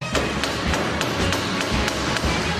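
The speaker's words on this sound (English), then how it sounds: "Don't hit it with the hammer." Someone strikes an object with a hammer on a Top Gear challenge set in Bethlehem, a run of about eight quick, fairly regular knocks heard up close over steady background noise.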